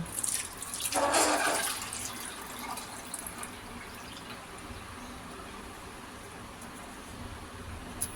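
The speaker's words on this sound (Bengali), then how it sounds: "এবার দুধ আমি এই বাটির মধ্যে ঢেলে দেব" Milk poured into a bowl of yogurt starter for homemade curd, a brief splashing gush of liquid near the start that fades into a faint trickle and quiet room noise.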